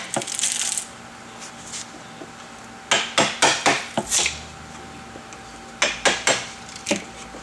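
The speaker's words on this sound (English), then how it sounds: "just start prying across the front, little at a time, till it breaks loose" Sharp wooden snaps and cracks as a Vandersteen Classic speaker's grill cloth frame is pried loose, coming in two quick clusters of four or five pops with quiet pauses between them.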